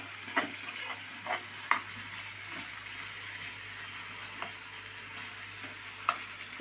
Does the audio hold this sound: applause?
no